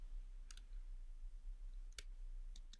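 A few light computer-keyboard keystrokes, three sparse sharp clicks spread over a couple of seconds, faint and close above a steady low electrical hum, with no speech.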